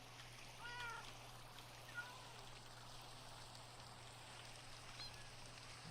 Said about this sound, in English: Oh, I love the little sounds the kitten makes.